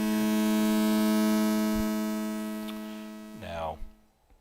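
A synthesizer holds a long, spaced-out note, a steady rich hum with stacked harmonics that slowly fades over several seconds before a brief voice breaks in at the end.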